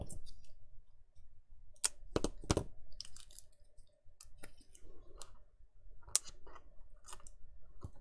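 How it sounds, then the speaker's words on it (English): Scissors snip a small foam pad down to size for a mini gable box craft, a quiet, close series of sharp clicking cuts in an irregular rhythm against a near-silent background. "so let's snip that down to size."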